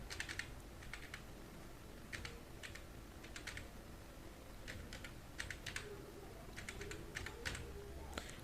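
Fingers type an Aadhaar card number on a computer keyboard, quiet clusters of quick key clicks in short bursts with brief pauses between them, close and faint.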